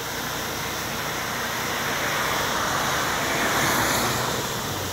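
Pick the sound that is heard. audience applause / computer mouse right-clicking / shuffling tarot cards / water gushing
water gushing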